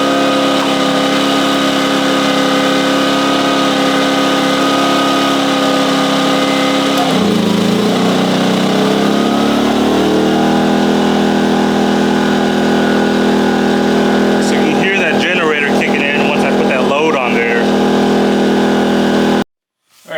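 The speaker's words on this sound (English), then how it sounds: "Alright, so we got the POWERHORSE generator running." A Powerhorse 2500i gas inverter generator runs steadily up close, its loud engine hum shifting pitch partway through as the load changes, then cutting off abruptly at the end.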